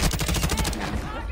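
Rapid gunfire rattles in a video game, a loud, dense burst of shots up close lasting about a second before fading.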